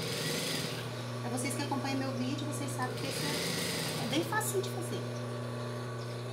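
A sewing machine runs steadily, stitching a center seam on children's shorts with pockets, a close continuous whirring drone while someone talks over it.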